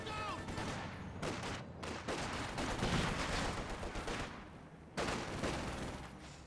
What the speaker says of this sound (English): Quad half track firing away.